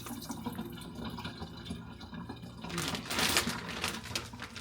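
Tap water runs into a bowl to soak fish in a home kitchen, a low steady flow that swells into a brighter, louder splashing gush partway through.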